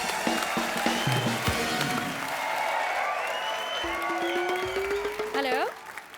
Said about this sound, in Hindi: एक बार मिस्टर मनोज वाजपेयी के लिए जोरदार तालियां हो जाए।